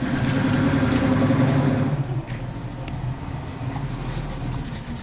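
Engine of a 600+ horsepower Subaru Impreza STI running at close range, a loud low rumbling drone that eases a little after two seconds and settles into a steady idle, with faint metallic clinks over it.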